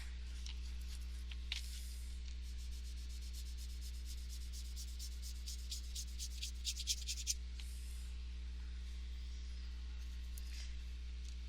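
Paintbrush bristles dabbed and scrubbed over watercolor paper to texture a painted hill, giving a faint dry rubbing and scratching that comes in short, irregular strokes against a quiet room hum.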